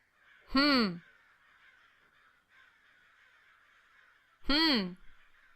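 Crows cawing in the video game Three Fourths Home: two loud, harsh caws spaced about four seconds apart, each a single close call over a faint, steady wind-like ambient hiss.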